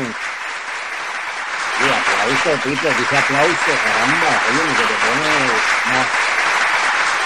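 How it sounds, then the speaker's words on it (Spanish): Sports-style applause from a studio audience at a Cuban-themed talk show, loud and steady throughout, with someone talking over it in Spanish. "vamos a hacerlo con aplausos deportivos"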